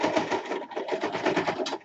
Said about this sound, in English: So I'm sewing from the point in the middle of the back all the way up to the front.